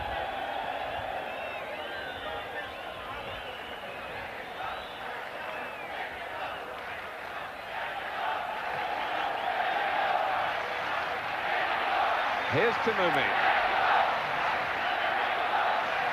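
Football crowd at a 1986 World Cup group match between Morocco and Poland in Mexico, a broad stadium roar and chanting that swells louder in the second half, running steadily under a commentator's voice.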